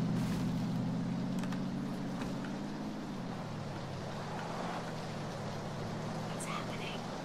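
A car engine hums steadily in PUBG, a low drone that dips in pitch partway through as the vehicle moves off, faint and distant, with soft voices murmuring over it.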